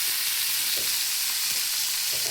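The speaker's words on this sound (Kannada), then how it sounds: "ಉಪ್ಪು, ಖಾರ ಪುಡಿ ಹಾಕಿ ಈ ಥರ ಫ್ರೈ ಮಾಡಿ ತಿನ್ನೋಣಂತ ಈ ಥರ ಮಾಡ್ತಾ ಇದ್ದೀನಿ" Leftovers frying in oil with salt and chili powder in a pan, giving a continuous close hiss and sizzle with occasional soft stirring scrapes and no voices.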